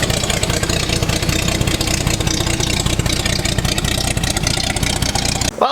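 A 55-year-old Land Rover 109 Series 2A engine, revived after sitting fifteen years, runs steadily at idle with a loud, close, rough mechanical drone that cuts off at the very end.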